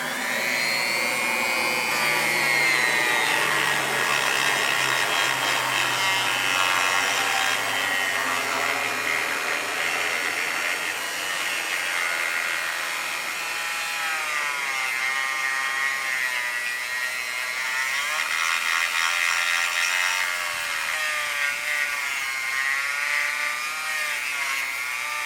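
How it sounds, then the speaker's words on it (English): A rotary tool with a sandpaper disc sands a wooden barrel-support cutout, giving a steady high whine and rasping grind that holds throughout, close and continuous with slight pitch wavering. "We'll just go ahead and sand that nice and smooth"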